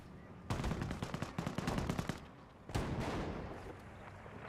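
A tank fires in the Company of Heroes 1 video game, loud rapid bursts of gunfire in two clusters separated by a short lull, with heavy crashing impacts close by.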